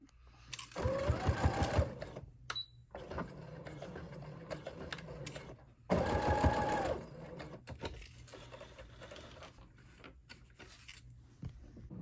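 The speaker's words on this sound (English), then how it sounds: "open it up, and sew along there to make a square corner" Sewing machine stitching the square corners of a fabric makeup pouch in two short bursts of rapid rhythmic clatter, separated and followed by quieter handling noise.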